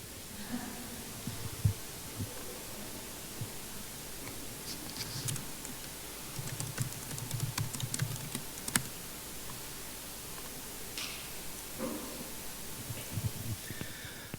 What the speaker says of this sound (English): I'm going to set this down because typing one-handed is ugly.